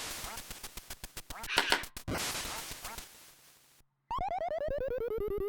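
Quacking ducks and rapid electronic sound effects from the Duck Hunt video game played on a retro light-gun shooter, with repeated bursts, a brief silence, then a descending warbling tone.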